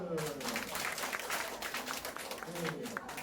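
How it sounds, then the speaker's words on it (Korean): Brief scattered clapping from a small group in a dementia-prevention training class, fairly faint and mixed with speaking voices throughout. "자, 박수"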